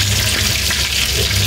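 Kofta meatballs fry in hot oil, giving a loud, close, continuous bubbling sizzle with a slightly watery texture.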